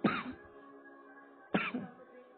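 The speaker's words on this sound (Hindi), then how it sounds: "खांसी आती है मेरी भी" Two short, harsh coughs about a second and a half apart, each a sharp burst that trails off, close to the microphone with no talking.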